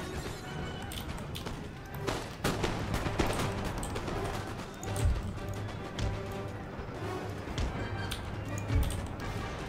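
Musket volleys crack repeatedly across a Napoleonic-era battlefield in the strategy game Empire: Total War, irregular sharp bursts over a steady battle din with horses whinnying, alongside someone talking throughout.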